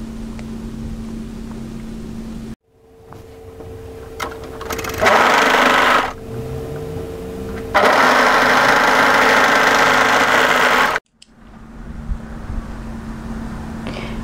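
An overlocker stitches a seam on an off-shoulder raglan swing sweater, its motor whirring loud and close in two bursts separated by quieter pauses, with faint background hum between runs.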